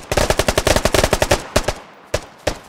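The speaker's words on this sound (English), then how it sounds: "Now they're firing over the village at Sven's guys. That's their MG." An enemy machine gun fires in a video game, opening with a long rapid burst of close, punchy shots, then slowing to a few isolated single reports with short gaps between them.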